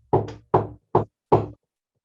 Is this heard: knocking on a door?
yes